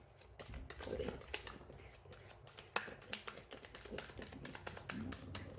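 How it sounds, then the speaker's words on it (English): Tarot cards riffle and slap in quick, uneven bursts, close and fairly quiet, a shuffled deck with soft rustling between the snaps. "Two more shuffles."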